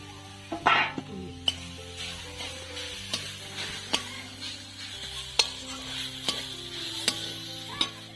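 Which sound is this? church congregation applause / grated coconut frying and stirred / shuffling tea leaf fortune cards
grated coconut frying and stirred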